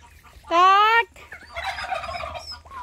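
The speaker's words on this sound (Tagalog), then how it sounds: "Turkey." A turkey lets out a loud, close, rapid gobble, followed by softer rattling bird calls and clucks nearby.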